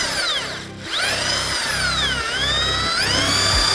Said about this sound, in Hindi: ड्रिल में जो बिट है उसकी जगह ब्रश घूम रही है।